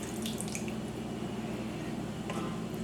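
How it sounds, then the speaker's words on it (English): A cup of water is poured into a pot of chicken noodle soup on a burner set to high, giving a continuous soft splashing and gurgling rush that stays quiet and steady throughout. "And I'm also going to be adding 1 cup of water."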